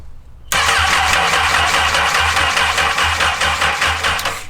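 A Honda N600 micro car swapped with a CBR1000RR superbike engine cranks over after a short silence, a steady loud whir with a regular low pulsing rhythm that continues without catching.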